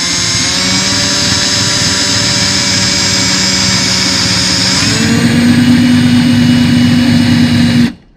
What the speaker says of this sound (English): We'll start drilling those holes. So I'll go ahead and put our pilot hole.